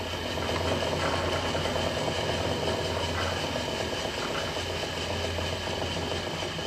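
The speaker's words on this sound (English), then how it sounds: "You can hit reverse, and now the spindle's spinning backwards." A machine spindle on a shop machine tool running in reverse gives a loud, steady, continuous mechanical whir and hum that holds unchanged throughout, with no talk over it.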